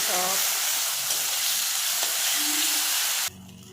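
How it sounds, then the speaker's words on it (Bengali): Spice paste for bhuna khichuri sizzles loudly and evenly in a hot pan with a few faint scrapes of stirring, then cuts off abruptly near the end, leaving a quiet background. "আমি সবগুলো একটু হালকা কষিয়ে নিলাম মশলাগুলো।"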